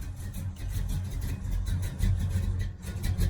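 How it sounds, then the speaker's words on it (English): A 1966 Dodge Charger engine idling after a Holley 4150 carburetor tune, a steady low rumbling idle with slight rises and dips in level, heard close and alone without talk. "I'm gonna drive it and see how the idle stabilizes"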